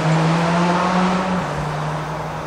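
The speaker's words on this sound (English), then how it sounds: "He's got a loud exhaust." Car with a loud exhaust passing close by gives a strong, droning engine note that drops in pitch as it goes past, over steady road noise with no talk.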